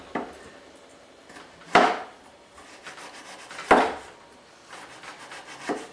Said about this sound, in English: Sometimes you could even take some of the ginger root and slice it very thinly like this.